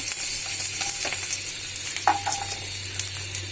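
Whole garlic cloves frying in a pan over raised heat, for a Bengali mashed rohu fish dish: a steady broadband sizzle with a low hum beneath and occasional stirring scrapes and clicks, close and alone without talk.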